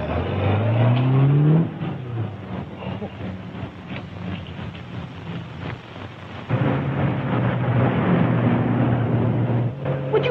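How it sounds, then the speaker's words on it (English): An old car revving and driving, its engine rising in pitch early on, then a rough, rumbling motor drone that swells again later, heard close on an old, band-limited recording. "When did you see I make this old car go?"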